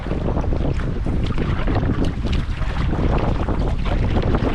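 Strong wind buffets and roars continuously over open water while canoeing, loud and rough, with water movement blending into the blustery noise.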